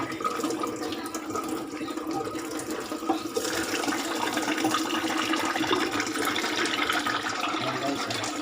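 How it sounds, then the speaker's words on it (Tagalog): Water runs steadily from the tap of a freshly cleaned water filter, a continuous close splashing rush that grows slightly stronger partway through, with no talking. "Patuluan na natin guys ng tubig"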